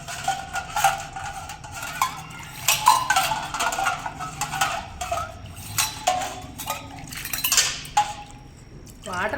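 Copper household utensils clatter and clink as they are dropped into water, a run of irregular metallic knocks and splashes at close range spread over several seconds, with a faint voice now and then.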